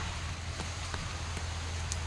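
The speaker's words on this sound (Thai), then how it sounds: "โอ้โหทุกคน ฝนตกค่ะ" Rain falling at an abandoned house, a steady dense hiss with occasional louder drops and a low background hum, close and continuous.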